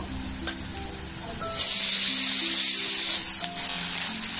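Ginger garlic paste drops into hot oil in a pan and bursts into a loud, steady sizzle after a short quieter moment, with a few light utensil clinks.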